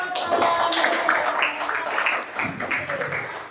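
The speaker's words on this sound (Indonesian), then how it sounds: "tepuk tangan buat" Students in a classroom clap together briefly, a short loose burst of hands with voices mixed in over it, fairly close and fading toward the end.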